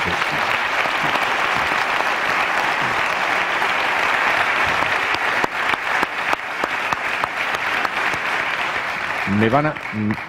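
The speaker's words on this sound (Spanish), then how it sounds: "Yo he aplaudido, como ustedes" Sustained audience applause fills a lecture hall during a historical memory talk with three speakers, steady and dense throughout, with a voice breaking in briefly near the end.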